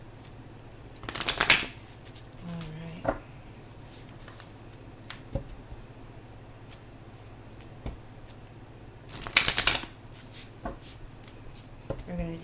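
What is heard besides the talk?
shuffling tarot cards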